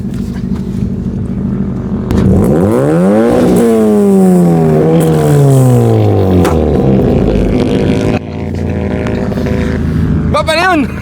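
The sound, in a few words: Honda car engine revving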